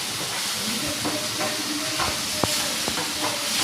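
Garlic and ginger paste for fish korma sizzles steadily in hot oil, a soft, continuous hiss with a few light scraping stirs, no talk.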